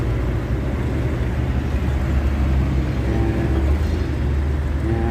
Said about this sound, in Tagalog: napakahaba po ng traffic ngayong araw na to dito po sa Trinidad